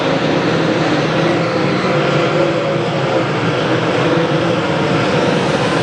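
Late model race cars at Lucas Oil Speedway, an MLRA Saturday main event, make a loud, continuous engine roar filling the whole stretch, with no pause or talk.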